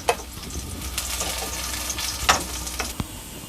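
Green chilies fry in oil in a pan with a continuous close sizzle, broken by occasional stirring scrapes and light clinks.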